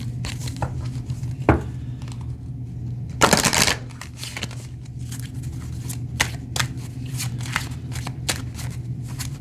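Cards are shuffled with rapid riffling bursts and scattered crisp snaps, one longer riffle standing out, against a steady low hum.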